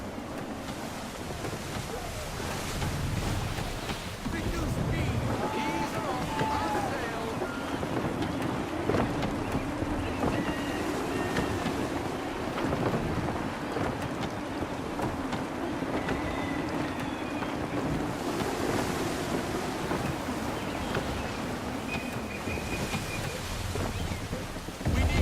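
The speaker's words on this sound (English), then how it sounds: "Gusty winds can be difficult to manage." Gusty wind and rolling ocean surf surround a sailing ship at sea in Assassin's Creed 3, a steady, loud wash of wind and breaking waves with occasional creaks, continuing unbroken throughout.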